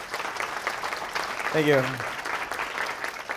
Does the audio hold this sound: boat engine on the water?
no